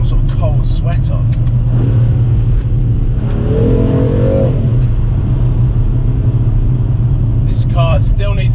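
A BMW M3 running without an exhaust system revs while driving on winter tyres, a loud steady engine drone rising in a swell midway, with people talking over it.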